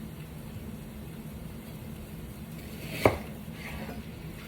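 A single sharp knife chop through food on a board at home while cooking rice, chicken and black beans, one crisp strike standing out against a low steady background hum.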